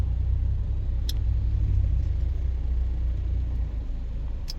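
A car rumbles steadily from inside the cabin while driving, a low continuous engine and road drone with a couple of brief sharp clicks or rattles, no talking.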